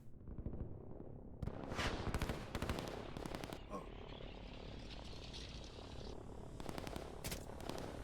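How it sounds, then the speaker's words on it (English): Commandos attacking in the strategy video game Line War let off rapid bursts of gunfire over a dense, roaring battle din that continues throughout, with engine-like drones and crackling shots blended together. "I can hear commandos. Ah, it's Haako using commandos."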